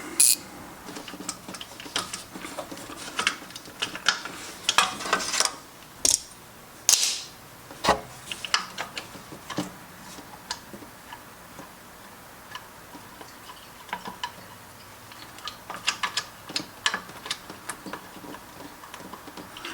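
Ratchet clicking in quick irregular bursts while backing out a thermostat housing bolt on a 2002 Dodge Durango 4.7L, close up under the hood through the wheel well, with metallic ticks and pauses between runs.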